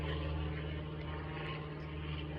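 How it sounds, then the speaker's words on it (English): An airplane or helicopter passes overhead above woods: a faint, steady, low droning hum from the distance, continuous and unbroken, with no voices. "Yes, I hear an airplane"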